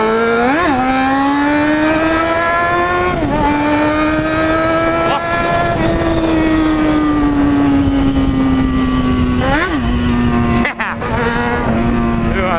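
A Yamaha XJ6 motorcycle engine roars loudly close by, revving up and down with shifting pitch as it moves past, while voices chat over it.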